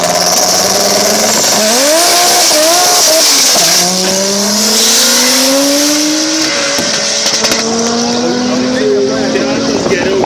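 Drag racing cars launch one after another at an airfield drag race, with loud engine roars rising in pitch through the gears under a steady crowd and commentary din, and people talking throughout.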